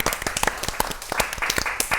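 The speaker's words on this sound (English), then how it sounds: "should we give them a round of applause to round things off?" Audience applause closes out a panel discussion on a Maison Martin Margiela Haute Couture Autumn/Winter 2014 collection, with dense, uneven clapping that stays fairly close and steady across the whole stretch.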